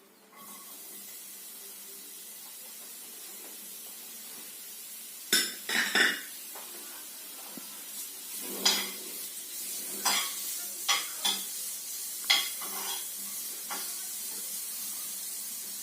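Beetroot frying with tomato puree for borscht, stirred in a pan: a soft steady sizzle with a run of scraping, clattering stirring strokes at irregular intervals, close and fairly quiet.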